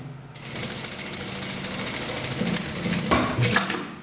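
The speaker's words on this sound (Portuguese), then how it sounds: "passa uma costura com um pé de máquina" A sewing machine stitches scraps of fabric for a 3D patchwork rug, a fast steady mechanical whirr of needle strokes running continuously close up, with a brief shift in tone near the end.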